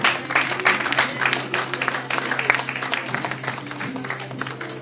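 A church congregation at a worship service applauds and acclaims the Lord, steady crowd clapping with scattered voices and cries mixed in, a low hum beneath, lasting throughout.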